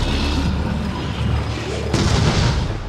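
A continuous loud rumbling blast in the game Resident Evil 7, with dense booming energy that carries through the whole stretch and a sharper second burst partway through.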